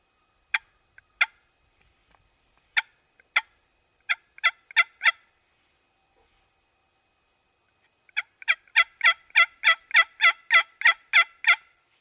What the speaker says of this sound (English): There's about 6 or 8 gobblers in there